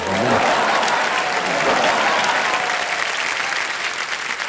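Loud sustained clapping from a large crowd, dense and even throughout, tapering slightly at the end.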